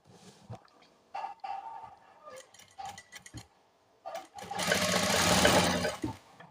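Sewing machine stitching fabric with piping, short bursts of running stitches early on, then a louder, sustained run of stitching near the end.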